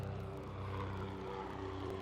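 A helicopter arrives at the Miami Open tennis tournament, its engine and rotor giving a steady, moderately distant drone with no clear rises or drops.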